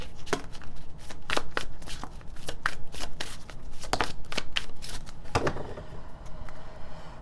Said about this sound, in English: There's way too many cards flipping out there.